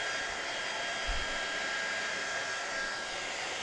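A hair dryer blows steadily and close up, drying paint on a painting in progress, with a continuous even whoosh throughout and no talking.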